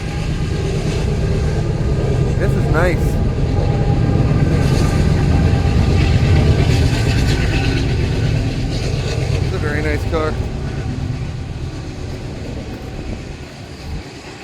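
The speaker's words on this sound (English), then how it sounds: "we got another train coming, guys, so apologize, it's gonna get loud" A train passes near a Strasbourg car show, a loud, steady low rumble with a couple of brief metallic squeals, while people talk over it before it eases off.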